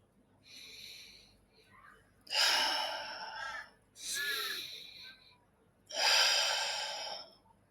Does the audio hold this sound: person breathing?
yes